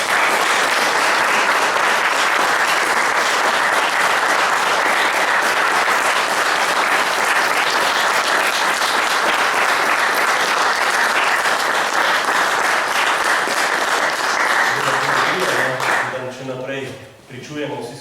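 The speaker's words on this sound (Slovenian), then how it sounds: "Jaz mislim, da si vsi trije zaslužijo en pošten aplavz." Audience applause for three speakers at an evening talk event, a dense sustained clapping from a seated crowd that fills the room steadily, then tapers off near the end as a voice begins speaking.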